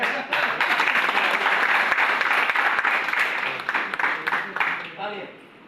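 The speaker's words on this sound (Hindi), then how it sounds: "बहुत बढ़िया, तालियां।" A room full of people clapping in sustained applause that fades toward the end, with voices mixed in.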